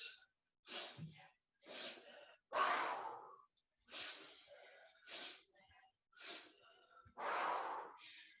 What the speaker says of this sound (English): I will just breathe it and you can probably hear me